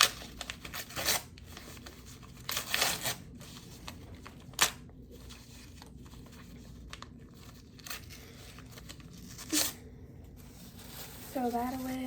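Papers being sorted and thrown away crinkle and rip in scattered bursts: soft crumpling and rubbing, several short sharp tears up close, and a voice speaks briefly.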